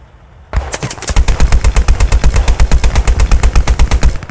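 A Vickers machine gun fires in Squad 44, a loud, close, sustained burst of rapid, evenly spaced shots after a short quiet start.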